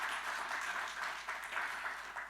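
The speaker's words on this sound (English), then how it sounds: "I'd like you to give them another round of applause." An audience at a university forum gives a round of applause, a short stretch of steady, fairly close clapping from many people with no talk over it.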